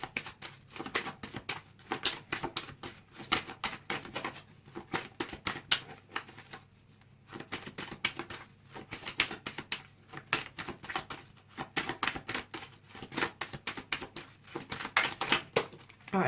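Rapid bursts of tarot cards being shuffled, crisp riffling clicks repeating in quick clusters with short pauses, close and fairly quiet, no talking.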